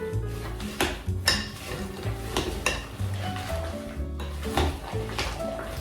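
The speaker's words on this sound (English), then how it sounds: "And then we stir again." A thick mixture with chopped pecans being stirred in a bowl, close clanks and scrapes of a spoon against the dish in an uneven rhythm.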